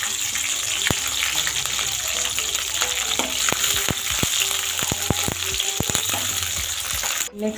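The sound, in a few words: green chillies sizzling in hot oil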